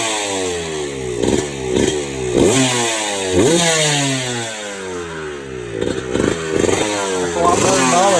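A motorcycle engine runs steadily and revs repeatedly, its pitch rising and falling in sweeps, loud and close, with no talk over it.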